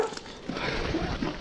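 Several dogs scuffle and fight each other close by, with harsh growling and snarling bursts over a continuous loud, chaotic tussle.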